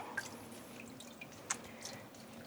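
Water drips while yarn is dyed at home: a few soft, scattered drops, faint against a quiet background.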